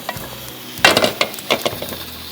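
Chicken frying in a pan on the stove, with a steady soft sizzle under sharp scraping and clinking stirring strokes that come in quick bursts.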